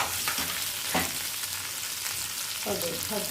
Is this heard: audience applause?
no